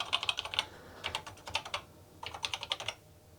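Keys clack on a freshly repaired Atari 800XL 8-bit home computer keyboard, tapped in three quick bursts of crisp, close plastic clicks separated by short pauses, with no voices.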